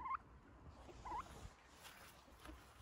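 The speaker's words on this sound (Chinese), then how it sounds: "你看看吧，这两个火鸡激动的，" Two excited, curious turkeys on a farm give short gobbling calls, one near the start and another about a second later, over a faint, steady background.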